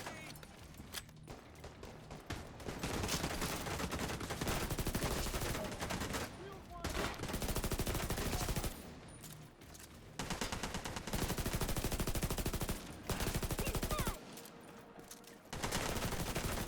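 Gunfire in The Division 2 video game comes in dense automatic bursts, loud and close, separated by short pauses, with a voice occasionally talking under the shooting.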